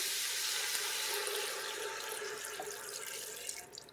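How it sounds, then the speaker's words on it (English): Leek broth pours from a jug into a creamy cauliflower soup as one continuous, fairly loud liquid stream that splashes without a break for several seconds. "put in the first jug of leek broth"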